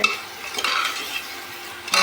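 Spiced tempering sizzles in a pan while pulao is being cooked, with steady frying hiss, a spoon stirring and scraping, and light clatter of utensils, swelling briefly near the start, middle and end, with no voices.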